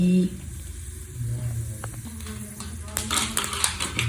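Lentils tipped into hot oil in a pan crackle and sizzle in short, close bursts that swell toward the end, with light clinks of the pan and a voice talking over them.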